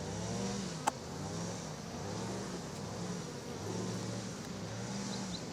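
Honeybees hum steadily in an open hive during a frame inspection, a dense, continuous buzz close by with a single sharp click partway through.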